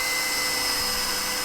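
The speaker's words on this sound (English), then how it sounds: "First we'll drill a pilot hole" A power drill bores a pilot hole in a greenhouse roof panel, giving a steady, close, high-pitched motor whine that holds through the short span with no talk.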